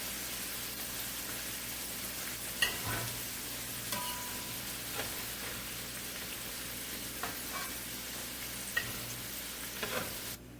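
Chicken pieces frying in hot oil for a curry, a dense, continuous sizzle with a few sharp pops and stirring knocks scattered through it, close and loud.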